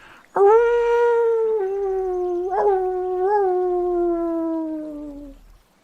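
Several dogs howl together in one long, close, discordant chorus, the voices holding and wavering in pitch before slowly fading out.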